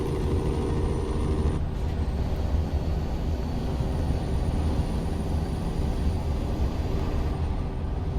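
Jake brake on a Peterbilt 359 truck in American Truck Simulator, a steady loud engine-braking drone and rumble that holds throughout, then shifts slightly partway through.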